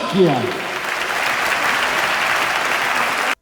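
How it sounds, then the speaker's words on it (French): A brief voice at the start gives way to steady, full applause from a tennis tournament crowd, clapping continuously for about three seconds before stopping abruptly. "Vous pouvez applaudir Jules Marie."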